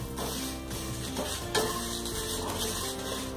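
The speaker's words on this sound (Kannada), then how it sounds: "ಇದಿಷ್ಟನ್ನ ನಾವು ಡ್ರೈ ರೋಸ್ಟ್ ಮಾಡ್ಕೋಬೇಕು ಒಂದು 2 ರಿಂದ 3 ನಿಮಿಷ" Whole spices for masala puri dry-roast in a pan without oil, a spoon stirring and scraping them in a steady, close rattle with a light sizzling hiss underneath.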